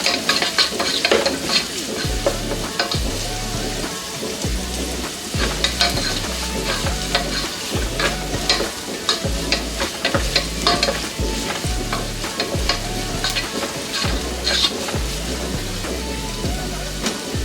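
Two medium onions, finely chopped, fry in a pan while being stirred, making a continuous crackling sizzle with rhythmic, repeated scraping strokes close by throughout.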